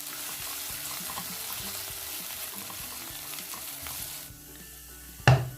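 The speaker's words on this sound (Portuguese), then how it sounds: "Agora eu vou refogar a cebola e o azeite." Chopped onion sautéing in olive oil in a pan, a steady close sizzle and crackle with faint stirring, which quiets briefly before a sharp clatter at the end.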